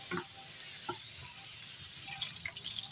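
Pork belly frying in plenty of oil in a pan, a steady close sizzle with occasional soft stirring clicks and scrapes.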